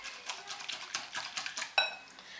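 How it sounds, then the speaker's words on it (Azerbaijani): A spoon clinks and scrapes in a bowl while an apple dessert with honey and cream is stirred, giving a series of light, close metallic taps with one sharper knock near the end. "Çox da qarışdırmıram, biraz qarışdırıram."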